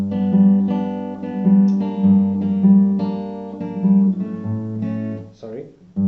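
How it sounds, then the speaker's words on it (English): Full bridge of a song on acoustic guitar, with plucked chords and sustained ringing notes played up close, ending with a quick slide and softer final notes. "Altogether, your bridge sounds like this"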